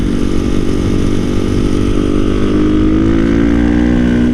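A motorcycle on knobby tires drifts with a loud, close, sustained engine roar whose pitch climbs gradually, no speech over it.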